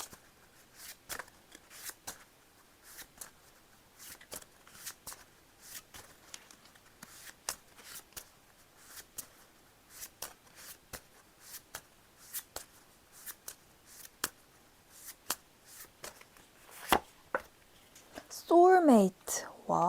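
Tarot cards being shuffled and drawn, a long run of quiet crisp flicks and riffles in irregular rhythm, close and soft, with a brief louder rustle near the end.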